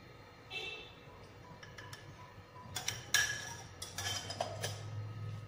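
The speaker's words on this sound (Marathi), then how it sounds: "चांगला हलवून घ्यायचं असं." A spoon stirs bottle gourd halva with a little ghee in a pan after the gas is switched off. Faint, scattered clinks and light scrapes over a low background hum grow busier toward the end.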